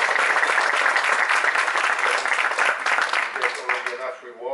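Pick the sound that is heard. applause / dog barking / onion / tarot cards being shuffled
applause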